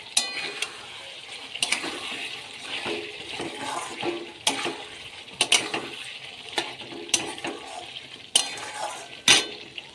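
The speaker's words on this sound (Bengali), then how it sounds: "এই যে অনেক জল বার হয়েছে এবার কষতে হবে ভালো করে" Mutton curry stirred and sautéed in a pan: repeated scraping and clinking spatula strokes in an uneven rhythm over a continuous wet sizzle, recorded close with no talking.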